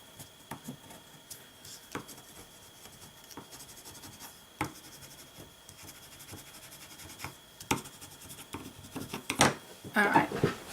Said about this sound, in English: Take your bone folder.